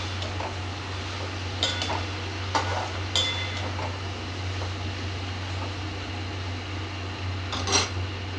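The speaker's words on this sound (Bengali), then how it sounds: "এইবার আমি দিয়ে দেবো মাছের মাথাটা, দিয়ে ভালো করে নাড়াচাড়া করব" A fish head is stirred in a frying pan, with soft scraping and occasional metallic clinks of the utensil against the pan over a low steady background hum, no voices.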